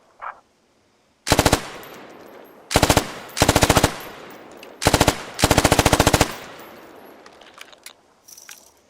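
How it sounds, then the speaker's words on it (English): A machine gun fires from a supported position in a video game, loosing five short, sharp automatic bursts of rapid shots with brief gaps between them, loud and close with no talk. "Automatic riflemen and machine gunners carry a machine gun like this to the field"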